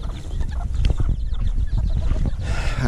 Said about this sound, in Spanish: Aquí está el gallo BB Red, mi semental.